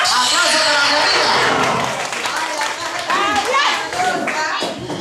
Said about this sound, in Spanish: Aplauso para mi amiga.